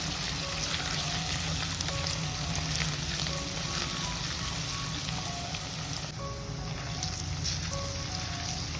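Ginger, garlic, curry leaves and a green chilli fry in fenugreek-scented oil, giving a steady, dense, close sizzle for a kilimeen chatti curry, with faint stirring clicks and no talking.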